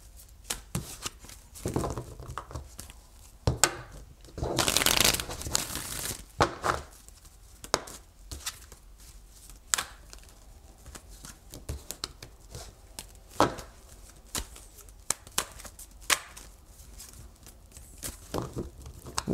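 Tarot cards are shuffled by hand in irregular bursts of soft riffling, flicking and rustling, close and fairly quiet, with brief pauses between handfuls and no talking.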